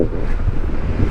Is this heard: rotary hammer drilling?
no